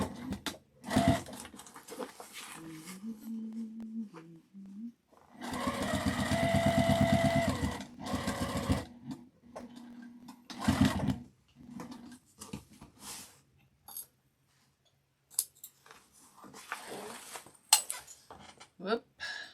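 A sewing machine stitches a tote bag in bursts, with a long steady whirring run and shorter spurts, close and fairly loud. A person talks between runs, and small handling clatters are heard.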